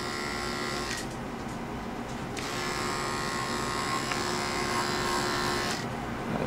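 Electric clippers buzz steadily and continuously while shaving a Miniature Schnauzer's coat, the close motor hum holding level throughout with slight shifts in tone as the blades move.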